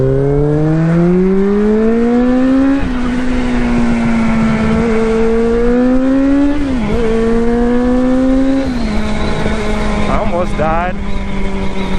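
Kawasaki GPz550 motorcycle with an iffy clutch and worn tires revving and pulling through several gears, its loud whining engine note climbing, dropping at shifts and climbing again, with wind noise throughout.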